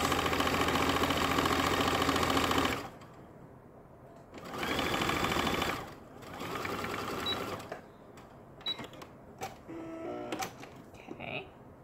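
A sewing machine stitches a 1/4 inch seam allowance down the side of fabric, its fast steady whir running in bursts that start and stop, with quiet pauses and faint handling noises between runs.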